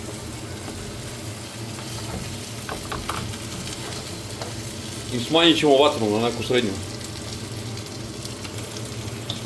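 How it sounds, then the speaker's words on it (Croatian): Meat, chicken drumsticks, fries briefly in a pan with boiled chickpeas, giving a steady moderate sizzle under a voice speaking in the middle of the clip. "Nećemo meso dugo da pržimo, samo malo da se malo isprži."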